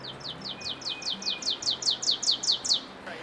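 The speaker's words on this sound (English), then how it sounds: "that's a warbler that really doesn't have any flashy color at all, but has this really big voice to ring out" A drab, plain-colored warbler sings a loud, ringing series of about a dozen quick, evenly spaced high notes that build slightly and then stop, close and clear with no talk.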